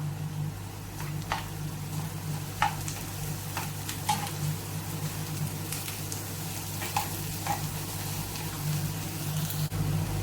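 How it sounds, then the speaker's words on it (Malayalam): Garlic, ginger and green chilli sauté in a hot pan for a fish roast, a steady oil sizzle running throughout with occasional stirring clicks and scrapes against the pan. "നമ്മൾ അരിഞ്ഞു വെച്ചിരിക്കുന്ന വെളുത്തുള്ളി, ഇഞ്ചി ചേർത്ത് കൊടുക്കാം. നന്നായിട്ടൊന്ന് വഴറ്റിയെടുക്കാം."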